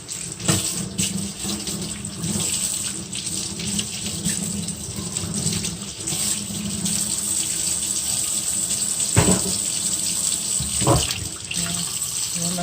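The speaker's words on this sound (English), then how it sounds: "I'm washing the food off in cold water." Seafood being rinsed under a cold running kitchen tap for a seafood boil, a steady continuous splash of water into the sink with brief louder surges as the food is handled.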